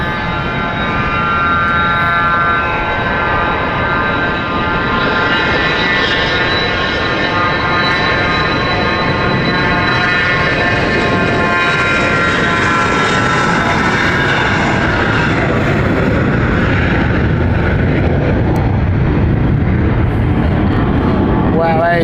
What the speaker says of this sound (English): that is a pocket rocket from NetJets there. What a takeoff.